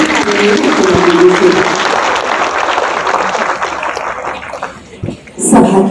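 Loud, sustained applause from a large crowd at a public rally with the Chief Minister fills most of the clip, thinning near the end as a voice briefly speaks.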